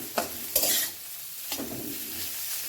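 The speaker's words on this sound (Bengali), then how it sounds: "পেঁয়াজটাকে মিনিমাম 5 মিনিট ধরে ভাজতে হবে।" Onions frying in a pan, a steady sizzle under several scraping stirs of a utensil against the pan, close and moderately loud, with no voices.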